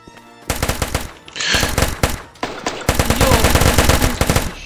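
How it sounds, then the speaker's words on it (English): Rapid bursts of automatic machine-gun fire during a video game raid, loud and close, in several long rattling strings separated by brief pauses. "Someone just shoot me."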